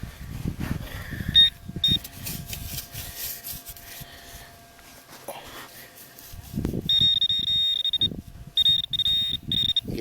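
A metal detector sweeps over a coin buried at a federal park water hunt in Georgia, giving short repeated electronic beeps that come and go amid handling noise and rustling.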